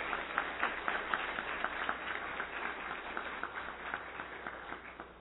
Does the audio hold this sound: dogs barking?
no